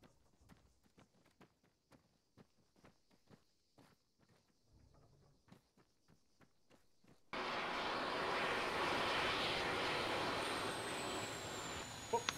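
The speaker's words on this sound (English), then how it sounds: "so that's a Harrier on the parade line" A Harrier jet sits on an airshow parade line; after light footsteps and clicks, a sudden loud, steady roar of jet noise takes over, with a thin rising whine toward the end.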